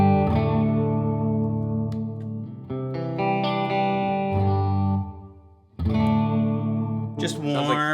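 An electric guitar through a Strymon Flint reverb and tremolo pedal plays sustained chords and notes washed in springy reverb, ringing out with a short pause before a final strummed chord.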